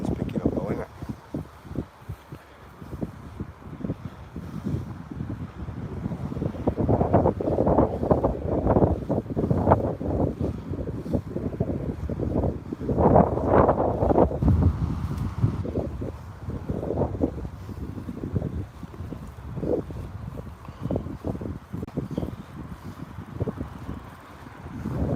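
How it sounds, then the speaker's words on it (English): Steady wind buffets the microphone outdoors beside a small pond, a continuous rumbling roar that swells in gusts through the middle. Someone talks intermittently underneath. "wind's picking up though, isn't it?"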